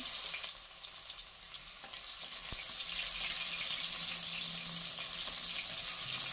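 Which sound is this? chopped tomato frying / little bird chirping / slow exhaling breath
chopped tomato frying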